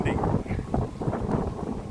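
Strong, gusting wind during a cyclone, buffeting the microphone with low, continuous roaring rumble throughout, no clear talk over it.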